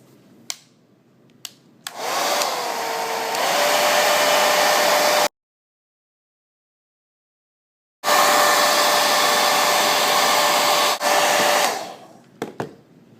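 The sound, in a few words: blow dryer heating laptop skin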